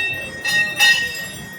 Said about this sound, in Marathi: सगळीकडे घंटा वगैरे बांधलेले आहेत सगळं श्रद्धाळूंनी.